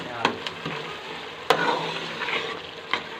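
Ash gourd halwa with almonds and raisins frying in oil in a pan, a steady soft sizzle broken by a few sharp scrapes and clinks of the stirring spoon.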